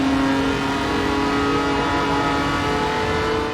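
A Lancia Stratos in Gran Turismo 7 holds a loud, steady engine note at high revs, close up and without talk for the whole few seconds.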